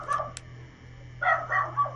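Small pet dog barking indoors at night, a sharp yip early on, then a cluster of several fairly loud barks in the latter half over a steady low hum from a computer or room.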